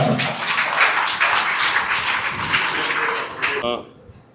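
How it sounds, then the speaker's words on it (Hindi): A crowd claps loudly and steadily at a high school farewell program, welcoming a speaker to the stage. The dense applause runs for several seconds, then cuts off abruptly. "जोरदार तालियों से इस्तकबाल सलीम ठाकुर साहब।"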